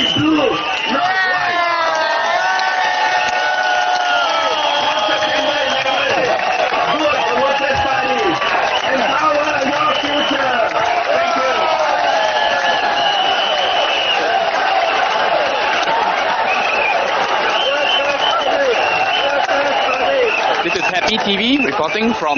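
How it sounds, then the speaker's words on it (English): A large crowd at a Workers' Party election rally in Hougang cheers and applauds steadily and loudly for the candidates, a dense sustained roar with whoops rising above it, with a voice speaking over the noise. "More people are standing up to cheer for the candidates."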